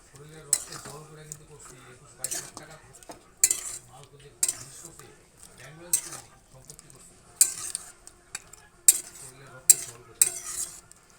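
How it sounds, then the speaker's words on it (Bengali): Goat meat curry with powdered garam masala being stirred in a pot, a spoon scraping and clinking against the metal in repeated bursts over a low sizzle, with no talking. "গরম মশলাটা দিয়ে অল্প নেড়ে চেড়ে দিচ্ছি।"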